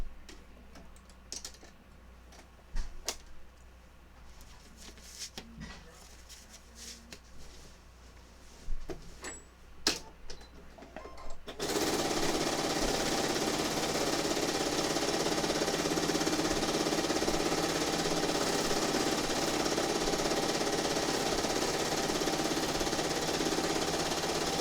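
Machine quilting on a sewing machine: several seconds of intermittent clicks and handling noises, then a steady, loud, continuous stitching drone that runs without a break to the end.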